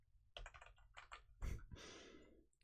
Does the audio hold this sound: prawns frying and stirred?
no